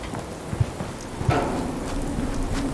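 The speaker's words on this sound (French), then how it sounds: "Je me demandais simplement quand cette pluie infernale allait enfin cesser." Steady rain pours in the video game Fallout 4, a continuous close hiss of drops on surfaces with a couple of soft low thumps, no voices.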